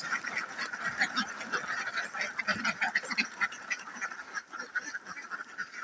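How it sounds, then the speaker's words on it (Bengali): Several ducks quack continuously nearby, overlapping nasal calls in a busy, rapid chorus with no talking. "এই যে আমার একটা ল্যাংড়ানি হাঁস"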